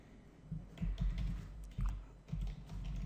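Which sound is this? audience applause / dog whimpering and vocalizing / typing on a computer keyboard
typing on a computer keyboard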